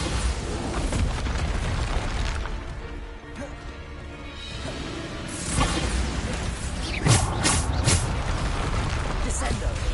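Repeated Bombarda blasting-spell explosions in Hogwarts Legacy, the PlayStation 5 action game. Loud, rumbling booms and crashes fill the stretch, with a quieter lull in the middle before heavier bursts return, layered over busy game effects.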